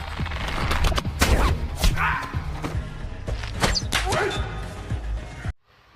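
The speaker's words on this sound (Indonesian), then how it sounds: "berhadapan satu lawan satu dengan Madak, dengan tembakan senjata rakitannya" Rapid gunfire from a homemade gun in an action film fight scene, bursts of loud, sharp shots in quick succession with crashes and a barking dog, ending abruptly in near silence.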